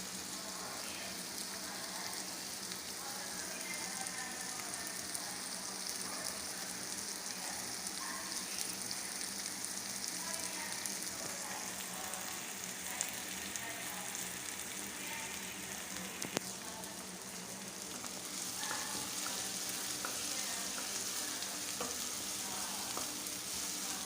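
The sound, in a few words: tomatoes added to the sautéing pan for green mongo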